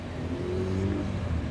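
A Tomcat Turbo race car speeds along the Castle Combe circuit, its engine a steady, loud droning roar with a slight rise in pitch as it passes, with no voices over it.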